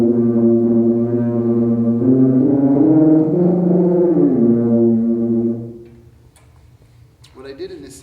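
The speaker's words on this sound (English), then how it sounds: "Do that in the tuba, and you get this." Tuba multiphonics from buzzing the lips while humming into the horn, giving a dense, steady chordal drone for about five and a half seconds that then cuts off, leaving faint room noise and small knocks.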